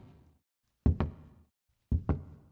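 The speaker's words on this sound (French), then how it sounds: "Julie entend des bruits de pas dans le couloir" Footsteps sound in a hallway at night, heavy paired thuds arriving in two slow, close groups with quiet between them and no voices.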